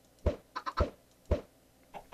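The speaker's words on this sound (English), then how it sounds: "Keep on going, chickens. Lay me some more eggs." Chickens cluck in a video game, a few short, sharp clucks spaced irregularly, close and clear against near silence.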